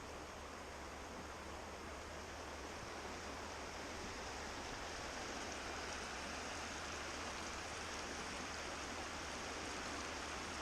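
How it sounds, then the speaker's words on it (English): The Chattooga River flows on a morning along the Foothills Trail, a constant broadband rush of moving water, steady and unbroken with no voices. "Beautiful morning on the Chattooga River."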